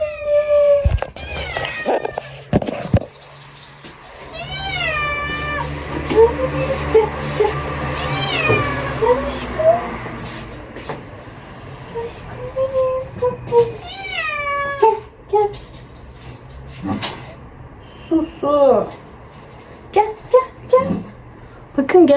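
A cat meows repeatedly and insistently up close, long drawn-out and wailing cries, mixed with a person talking and some thumps and rustling.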